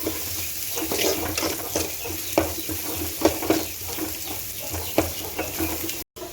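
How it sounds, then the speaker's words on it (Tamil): Crushed garlic and onions are sautéed in a pan for a samba wheat kichadi. A steady close sizzle carries regular scraping stirs, with a brief cut near the end and no talking. "பூண்டு சேர்த்து நல்லா பச்சை வாசனை போகிற அளவுக்கு வதக்கி விட்டுக்கலாம்"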